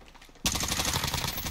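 Gunfire in Warzone: a quiet lull, then an abrupt burst of rapid automatic shots that rattles on steadily and loudly for about a second, no voices.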